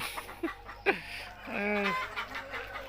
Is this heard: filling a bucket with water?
no